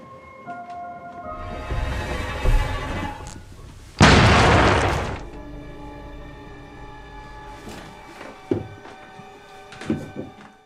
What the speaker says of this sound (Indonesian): David pun beraksi dan meledakkan bom.